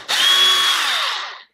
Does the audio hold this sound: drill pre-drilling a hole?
yes